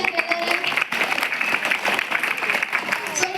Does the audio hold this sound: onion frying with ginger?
no